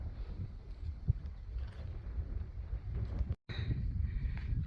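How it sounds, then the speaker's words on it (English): Chilly wind blowing on a mountain trail near Mount Unaka, buffeting the microphone as a steady low rumble that cuts out for a moment and then returns, fairly loud and close. "Woo, that wind's chilly."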